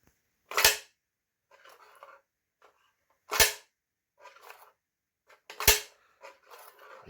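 A homemade spring-powered toy blaster fitted with a prototype magazine fires three sharp, loud snapping shots a few seconds apart, each followed by quieter clicking and rattling as it is handled and reloaded.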